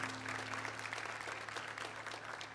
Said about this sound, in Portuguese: Vamos aplaudir a maravilhosa e majestosa palavra do Senhor.